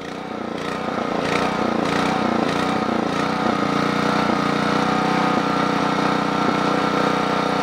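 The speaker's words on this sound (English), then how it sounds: "Now this is the best it wouldn't run before, but obviously I got to close the choke up again." A Generac 8838-0 engine runs steadily with its choke partly closed, a loud, continuous buzzing drone with slight irregular pulsing early on, close and without talk.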